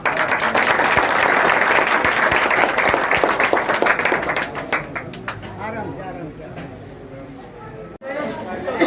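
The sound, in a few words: applause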